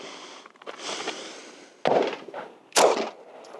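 Two sharp, loud reports from a Sig Sauer P226 MK25 pistol fired at an outdoor range in California, spaced about a second apart, each a hard crack that decays quickly, with softer background rustle before them.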